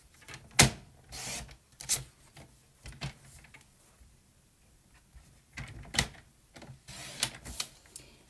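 A paper trimmer slices through a sheet of designer paper, with a few short scraping strokes and clicks spread out between quiet pauses, close and fairly soft.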